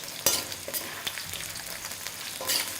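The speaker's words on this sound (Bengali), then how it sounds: "আর পটলটা ফ্রাই করার সময় তেলের টেম্পারেচারটা আপনারা একদম হাই রাখবেন" Pointed gourd (potol) fries in very hot oil with a bright, crackling sizzle, broken by a few sharp spatters and stirring knocks up close.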